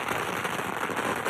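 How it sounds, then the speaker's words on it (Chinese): Strings of firecrackers laid on the ground bursting during a fire dragon dance festival in Miaoli, Taiwan, a dense, continuous crackle of rapid pops at close range with no pauses. "此时地上可是放满了鞭炮，也被点燃，还在持续响彻云霄当中。"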